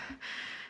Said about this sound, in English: you're breathing excessively loud